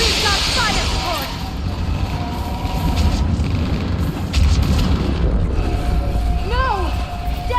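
Heavy booming blasts and rumbling explosions from fire support in the Mass Effect 3 video game fill a loud battle scene, with whooshing effects and voices shouting over the din.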